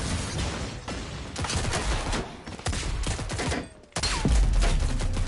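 Shotgun blasts boom in the video game Rogue Company, a dense run of loud shots and explosions with a short pause before another heavy burst.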